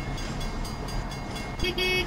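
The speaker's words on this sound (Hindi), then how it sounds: "बट भाई ये हॉर्न कौन बजा रहा है" Horn honking at a railway crossing in Trainz Railroad Simulator 2019, heavy rain setting on Indian Railways, a short toot near the end over a steady rumbling rain-and-traffic wash.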